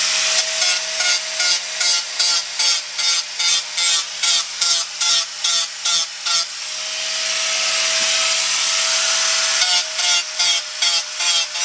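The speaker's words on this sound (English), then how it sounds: "one-handed grinding with the tyre on" Bicycle rim sidewall ground with the tyre still mounted, a loud abrasive rasp that pulses in a regular rhythm of short strokes, briefly turns into one continuous grind, then returns to pulsing, with no talking.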